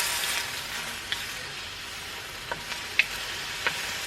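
Food sizzles steadily in a hot pan as it fries until golden, a continuous hiss broken by a few small pops and crackles, with no talking.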